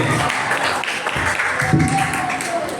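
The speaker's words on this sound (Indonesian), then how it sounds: "Terima kasih, tepuk tangan dulu Bapak Suhardi." A roomful of people claps for a man named Suhardi, the applause sustained and moderately loud, with voices murmuring and talking underneath throughout.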